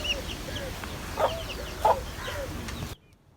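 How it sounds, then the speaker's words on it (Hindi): An Aseel hen clucks in a few short, bright bursts over a steady background hum, and the sound cuts off abruptly near the end. "ये इसके चूजे माशाल्लाह से बहुत ही प्यारी मुर्गी है"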